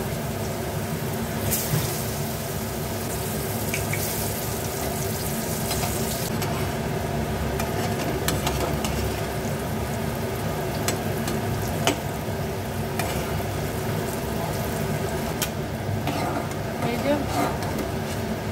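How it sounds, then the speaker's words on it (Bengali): Jackfruit pieces fry in white oil in a wok, giving a constant close hiss and crackle that runs steadily underneath a person talking, with occasional small clinks. "সাদা তেল দিলাম, সাদা তেলে ভাজবো। এবারে এইগুলো এক এক করে ভাজবো"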